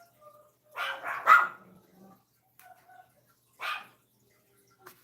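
Indoor dogs bark in a short cluster of sharp, close barks, then fall quiet, followed by a single further bark and a faint trailing yip, with no talk in between.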